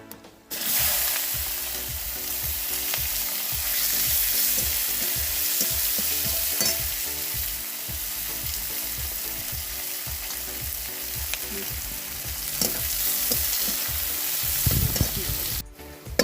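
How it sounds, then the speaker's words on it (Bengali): Sliced onions fry and sizzle steadily in hot oil in a pan with dried red chillies and whole spices, with repeated scraping, stirring strokes throughout; a loud, continuous close-up sizzle with no talking. "পেঁয়াজটা ভাজা হয়ে এসছে"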